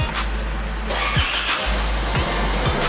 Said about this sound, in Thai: เสียบไปเสร็จก็สตาร์ทรถเลย